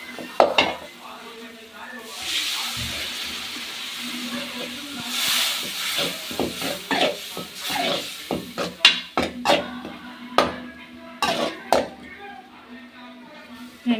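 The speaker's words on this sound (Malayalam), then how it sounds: "ഇനി അതിനകത്തേക്ക് വിനാഗിരി ഒഴിക്കാൻ വേണ്ടി പോവുകയാണ്" Vinegar hits hot spiced oil for a Kerala-style fish pickle, giving a steady broad hiss that swells, then fades into clinks and scraping of a spoon against the pot.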